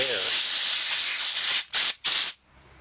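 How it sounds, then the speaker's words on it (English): A strong hiss of compressed air blowing off a chainsaw spark plug runs steadily, then comes in two short quick bursts before stopping, leaving near silence. "I just clean off the spark plug with the air."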